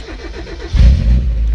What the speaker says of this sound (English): All right, we have ignition.